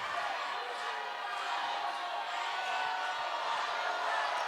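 A Hoboken high school basketball crowd in a packed gym during a state tournament semifinal, a dense, steady roar of voices reacting to a travelling call, loud and continuous throughout.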